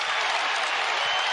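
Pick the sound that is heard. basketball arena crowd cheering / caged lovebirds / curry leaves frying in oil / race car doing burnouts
basketball arena crowd cheering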